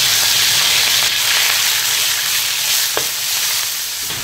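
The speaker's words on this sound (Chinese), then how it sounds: "羊肉下锅。" Lamb pieces hit a hot, oiled wok and sizzle loudly and steadily, with a faint clink of the spatula partway through.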